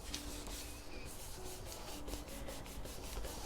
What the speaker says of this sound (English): Rub it with my score tool, it's easier than my hand.